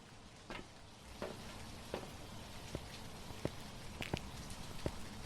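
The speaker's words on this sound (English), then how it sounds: "Of course we get rain." Loud rain in a video game, a steady patter of raindrops hitting a surface with scattered sharper drips, soft and continuous without voices.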